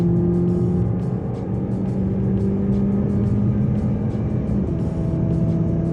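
Chevrolet Impala with a Roar throttle pedal accelerating hard from about 60 mph, a steady loud engine drone with a rising pitch that holds for six seconds with no talking.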